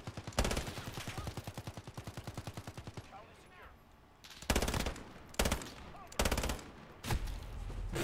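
Gunfire in Call of Duty, including sniper shots, comes as a rapid rhythmic burst of automatic fire followed by several loud, sharp, separate shots, close and dominant with no talking.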